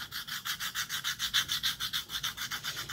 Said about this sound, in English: you take some chalk and you just kind of rub it in